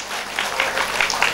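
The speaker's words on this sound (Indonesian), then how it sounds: "Tepuk tangan dulu dong buat Pak Daryanto." Audience at a humorous Islamic religious gathering claps in a brief, dense burst of applause, close and fairly loud with no talking over it.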